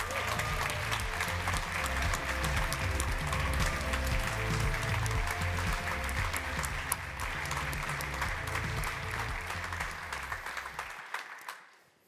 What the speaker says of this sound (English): please give a great applause to Network Team.